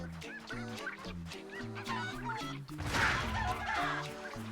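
Chickens clucking in the Crash Twinsanity video game: rhythmic, repeated clucks over a bouncy game backdrop, with a brief burst of noisy crashing near the middle before the clucking pattern returns.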